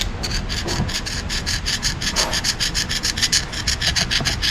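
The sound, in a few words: screwdriver dragged across an engine part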